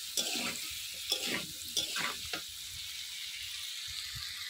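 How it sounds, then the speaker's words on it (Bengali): Potatoes frying in oil with turmeric are stirred in a pan, giving several loud scraping, sizzling bursts early on before settling into a quieter, low sizzle. "লাল লাল করে আলুটা ভেজে নেব।"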